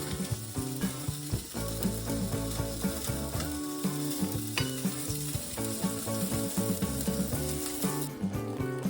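Fish and vegetables frying in a pan, a steady dense sizzle and crackle running throughout, close and continuous with no talking.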